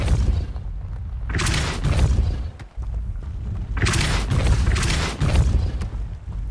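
A spell cast in the Hogwarts Legacy video game, heard as two loud, full-bodied magical blasts with booming low-end thumps, separated by a short lull, alone without talk.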